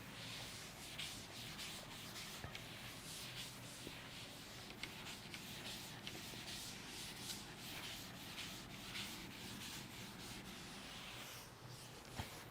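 Dry, continuous rubbing of an eraser or duster wiping writing off a board, a faint scratchy swishing that runs steadily with small bumps and no talking.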